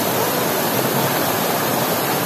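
Waterfall at Sítio Tabocas in Altinho, a loud, continuous broadband roar of falling water heard up close, steady and unbroken with no voices.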